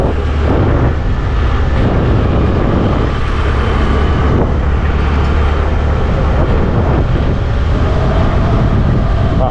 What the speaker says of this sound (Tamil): காற்று பயங்கரமாக அடிக்குதுங்க.